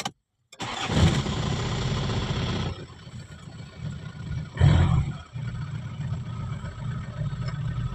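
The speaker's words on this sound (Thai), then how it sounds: "ตอนนี้เร่งเครื่อง" A Isuzu TFR pickup engine, tested after an alternator replacement, cranks and starts, idles, then revs up sharply once before settling back to a steady idle, close by.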